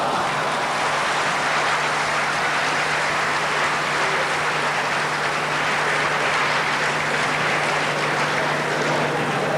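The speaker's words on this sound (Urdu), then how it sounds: "آپ کے سامعین کی تالیاں گواہ ہیں اس بات کی کہ آپ کا کلام سب کو پسند آیا" An audience at a 1988 poetry gathering in the UAE gives sustained, dense applause after a recitation, a continuous loud clapping roar that holds evenly throughout.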